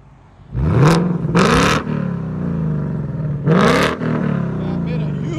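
A 2020 Ford Mustang GT with an H-pipe in place of the resonator revs with its active exhaust open, giving two sharp, loud rising blips followed by a steady rumbling idle and then a third rev, close and dominant.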